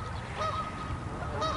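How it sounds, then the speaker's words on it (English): Geese honk in a few short nasal calls, outdoors at moderate distance, with a steady low background rumble. "There's a nice geese over there."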